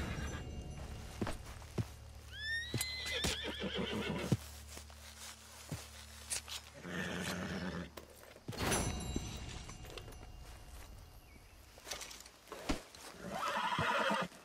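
Horse in Red Dead Redemption 2 whinnies with rising, wavering calls, then hooves clop and shuffle nearby amid ambient game sounds, with no speech.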